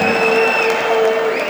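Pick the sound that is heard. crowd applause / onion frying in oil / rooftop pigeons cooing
crowd applause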